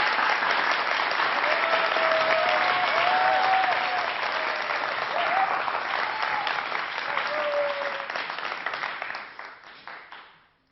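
Studio audience on a 1993 French television show breaks into sustained, dense applause with a few faint whoops, holding steady for about nine seconds before tapering off and fading out.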